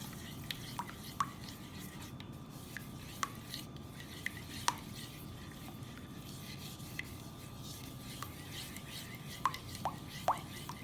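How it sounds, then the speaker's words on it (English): A spoon stirring a white chocolate pretzel mixture in a bowl, soft scraping with a few light sharp clinks against the bowl, quiet and close, steady over several seconds. "just kind of give that a quick little stir"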